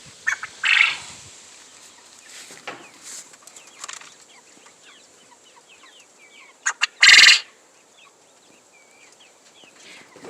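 Farmyard quail give short, sharp crowing calls, one burst near the start and a louder one a few seconds later, over quiet outdoor background with faint chirps.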